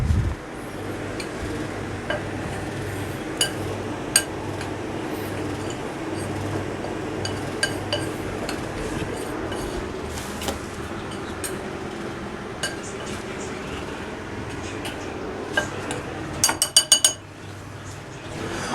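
Batter with baking powder gets stirred in a bowl, a spoon clinking and scraping against the sides. Scattered light ticks fill most of the stretch, with a quick run of clinks near the end.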